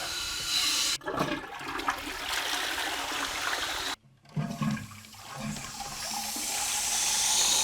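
A household toilet flushes close up, a loud gushing rush of water that cuts off briefly twice, then refills with a steady hissing trickle that builds again toward the end.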